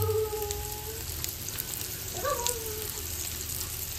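Bangda mackerel coated in rava and green masala sizzling in a pan, a steady close frying hiss with faint tonal hums and a brief clink partway through.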